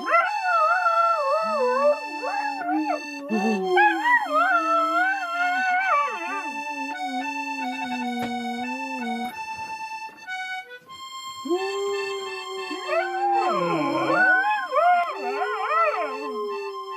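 Several dogs howl together in the extreme cold of a remote Siberian settlement, long wavering wails rising and falling and overlapping, loud and sustained, with a short lull midway before the chorus swells again.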